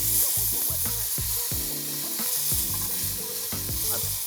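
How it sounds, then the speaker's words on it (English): Steak edges searing in a hot pan, cooked to medium rare, give a steady loud sizzle and crackle, with bumps and scrapes of the pan and meat being turned running through it. "Now I'm just searing off those sides."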